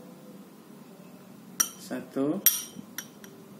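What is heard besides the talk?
spoon clinking while scooping herbal powder into a container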